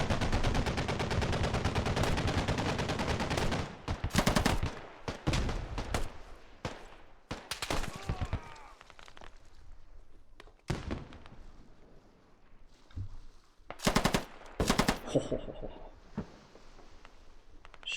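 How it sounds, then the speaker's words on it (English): In the video game Squad, a machine gun fires in loud, rapid bursts, one long stream at first and then shorter separated volleys with gaps of quieter battlefield noise between them. "Short bursts, so they don't spot my muzzle flash"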